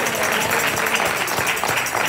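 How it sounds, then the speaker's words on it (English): A church congregation claps their hands together in a steady, dense wash of applause that carries on throughout. "Did she do good? Clap your hands for her."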